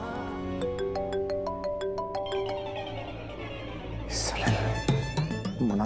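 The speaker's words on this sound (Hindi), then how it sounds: "किसका फोन आ गया?" A mobile phone plays a bright melodic ringtone of stepped electronic notes, clear and fairly close, until a voice cuts in over the final seconds.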